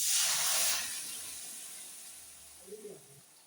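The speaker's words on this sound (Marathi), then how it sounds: "आणि डाळ ओतते" Dal poured into a hot pot while cooking a traditional offering, giving a strong steaming hiss that swells at first and then fades to a quieter sizzle, close by, with no speech.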